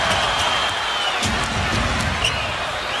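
A basketball arena crowd at a 2014 Pacers playoff game roars steadily throughout, loud and continuous, calling for a travelling violation, with a commentator's voice faintly mixed in.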